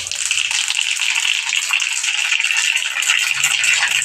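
Mustard seeds splutter in hot oil for a banana-flower bhaji cooked in a home kitchen, giving a dense, continuous crackling rattle that is bright and close, with no talking over it.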